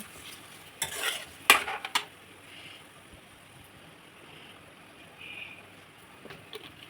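Homemade hair oil mixture stirred in a pot after the stove is switched off, with a few soft sloshing, scraping strokes early on, then long quiet stretches with faint liquid movement.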